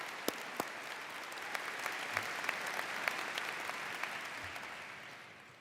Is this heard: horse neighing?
no